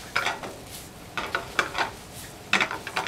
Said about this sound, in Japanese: はい、炒めていきます。 この時は火は強火にします。